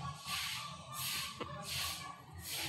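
Mutton frying with onions in a pan gives a soft, steady sizzle that swells in three or four slow surges as the meat is stirred, close and moderate.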